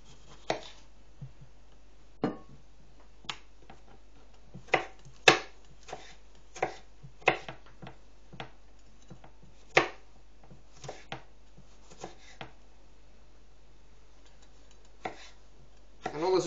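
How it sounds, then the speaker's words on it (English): A knife dicing tomatoes on a cutting board for bruschetta, sharp irregular chopping taps spaced a second or so apart, close and clear over a quiet background with no talking. "We're going to dice our tomato."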